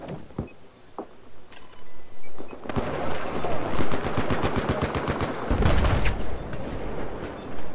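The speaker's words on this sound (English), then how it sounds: "There's a bunch of guns that sound better." Rapid bursts of automatic rifle and machine-gun fire from the Battlefield 4 video game, dense and loud, with rattling volleys and heavy booming impacts building through most of the stretch after a quieter opening with a few isolated shots.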